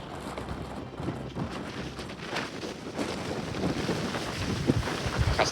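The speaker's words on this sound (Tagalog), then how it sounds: "Lakas ng hangin na." Strong wind among natural rock formations in Aruba buffets the microphone in a steady, rumbling roar that grows gustier toward the end, with no voices.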